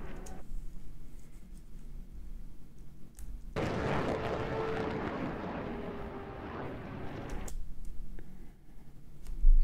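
A motorbike engine bursts into a loud, gritty roar for about four seconds, standing out sharply against quieter background noise before cutting off, with a few faint ticks around it.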